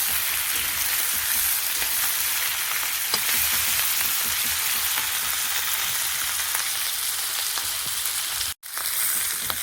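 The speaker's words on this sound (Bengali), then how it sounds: "নুন হলুদ দিয়েছি, দিয়ে ভেজে নিচ্ছি চিংড়ি মাছটা" Prawns with salt and turmeric frying in oil, a loud, even crackling sizzle heard close up, steady throughout with a brief dropout near the end.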